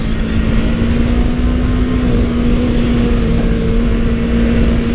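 A 2015 Yamaha R3 motorcycle engine drones loudly and evenly while riding, holding a steady pitch under a constant rush of wind noise.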